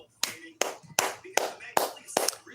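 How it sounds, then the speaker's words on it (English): Seven sharp hand claps at an even, deliberate pace, close and loud, with no other sound between them. "let me give y'all a hand clap"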